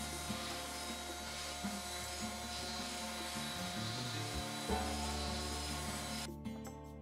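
A piece of wood clamped in a Zyliss vise is sanded with a continuous rough, rasping rub that keeps going for several seconds at a steady level, then stops near the end.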